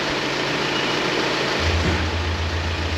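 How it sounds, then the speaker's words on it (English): VW Amarok pickup fitted with a Kufatec exhaust sound booster on its subtle first setting, idling steadily with a low droning rumble that deepens and swells partway through as the engine picks up slightly, close and continuous. "So I've got number 1 set as quite a subtle engine sound."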